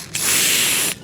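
Silicone spray hisses from an aerosol can in one steady burst lasting under a second, sprayed into the window groove of a Rover 416 GTi with a faulty driver's window, close and alone.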